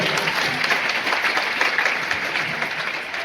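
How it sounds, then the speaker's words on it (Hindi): An audience at an anniversary event applauds a participant, a dense, even wash of clapping that stays loud for a few seconds. "अनिल के लिए तालियां होनी चाहिए"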